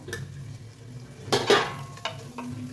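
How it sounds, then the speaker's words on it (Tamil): Two tomatoes dropped into hot oil in a pot while cooking chicken biryani, a soft sizzle with scattered clinks of utensil against pan and a sharper burst midway, close with no talk. "இப்போ நான் எடுத்து வச்சுருக்கேன் 2 தக்காளி எடுத்துருக்கேன், போட்டுக்கிறேன்."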